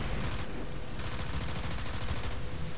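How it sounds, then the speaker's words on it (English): Machine gun fire in the War Thunder tank battle game, a steady rapid rattle of automatic shots that runs continuously, fairly close and even in level, with no talk over it. "Eat my machine gun!"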